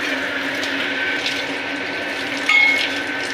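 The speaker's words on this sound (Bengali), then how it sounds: "জলটা দিয়ে দিই এবার।" Water poured into a pot of chicken kosha, a steady rushing pour with a brief louder splash near the end, no speech.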